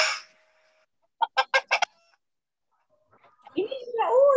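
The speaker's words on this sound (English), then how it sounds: "What sound is that? Chicken." Chicken clucking in a short burst of four quick, evenly spaced calls, fairly close and clear, set between quiet stretches, with another voice or animal call rising near the end.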